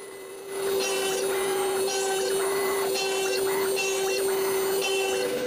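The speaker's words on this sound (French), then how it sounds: "La première chose que la CNC doit faire, c'est changer la fraise pointue pour celle de 1/8 de pouce qui va percer les trous d'alignement." A CNC router works with a steady high motor whine, then drills alignment holes with a 1/8 inch bit in repeated, evenly spaced bursts of buzzing over a constant hum.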